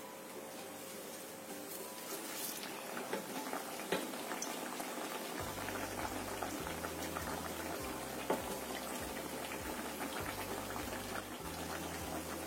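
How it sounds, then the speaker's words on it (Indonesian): Steady sizzling and crackling of eggs frying in a pan over low heat, continuous and fairly quiet, with a low hum underneath. "Goreng sampai matang luar dalamnya ya."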